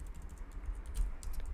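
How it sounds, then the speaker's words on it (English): Fast, uneven clatter of keys on a computer keyboard as a command is typed into a terminal, close and moderately loud with no voices. "we can activate this environment within our terminal by typing source"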